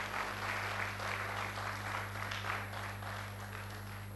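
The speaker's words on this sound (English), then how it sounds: "I believe she deserves a round of applause." A faint, steady round of applause for a university Provost at a Nigerian induction ceremony for medical laboratory science graduates, heard distantly under a constant electrical hum.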